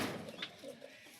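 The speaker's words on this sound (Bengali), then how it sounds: "লাল শিরা পায়রা।" Red-veined pigeons at a pigeon catcher's loft give a brief, soft coo, faint under steady background noise and fading quickly.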